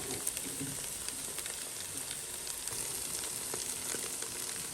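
Chili-coated crispy chicken thigh sizzles from an air fryer with a steady, close crackling and popping hiss. It continues evenly throughout, with no voices.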